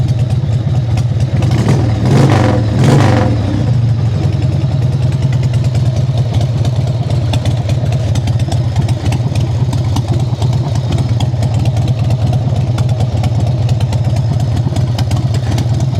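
A motorcycle engine idles steadily inside a motorcycle shop, loud and close, with a mechanical clatter throughout and a brief swell in revs early on. No one talks over it.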